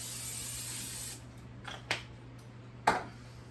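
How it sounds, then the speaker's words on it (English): Cooking spray hissing onto a 9x13 baking pan, a steady faint spray for about a second followed by a couple of brief, sharp clicks and light taps in a quiet kitchen. "I'm just going to go ahead and spray my pan"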